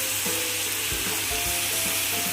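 Moringa leaves and egg frying in a pan, a dense steady sizzle with rhythmic spatula scrapes and knocks against the pan, close and continuous.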